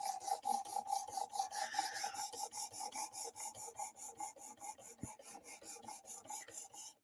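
A knife is sharpened with quick, regular rasping back-and-forth strokes, about four per second, close and fairly quiet, with one sharp tap midway.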